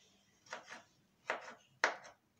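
A knife slices food thinly on a cutting board in three quick bursts of two crisp chops each, close and clear against a quiet kitchen.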